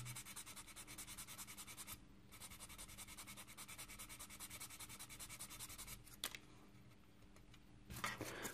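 Quiet, close rhythmic scratching as a plastic part from a 1/24 Fujimi Ferrari F430 Challenge model kit is sanded by hand, fast regular strokes with brief pauses and a few soft knocks.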